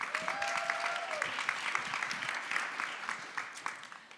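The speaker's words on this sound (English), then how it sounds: "Round of applause for them." Audience applause at a women's sports sponsorship event, soft and fairly distant, a patter of claps holding steady for a few seconds before thinning out.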